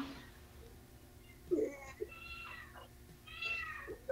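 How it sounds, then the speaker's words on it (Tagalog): A cat meows several times, short nasal calls close by over a quiet room background, with soft murmuring voices nearby. "May pusa."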